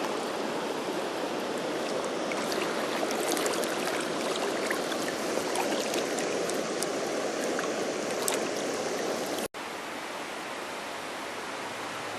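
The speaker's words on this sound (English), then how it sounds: "So here the Farmington River is flowing under the old abandoned bridge" The Farmington River rushes under an old abandoned bridge that once carried Route 8, a steady, full broadband roar of flowing water close by, briefly cut off near the end before resuming.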